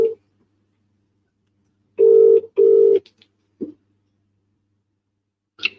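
A telephone rings during a call placed live from the Scotch Malt Whisky Society, giving two loud, clean ring bursts in a row, followed by a few short faint clicks and tones in near silence.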